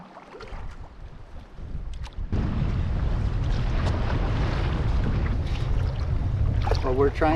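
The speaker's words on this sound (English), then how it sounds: "It's gotten really bad out here. We can see there's some pretty heavy breakers going on." Strong wind roars steadily over a rough lake as heavy breakers wash against a canoe on a Temagami canoe loop, a dense continuous rush that builds after a quieter start, with faint speech near the end.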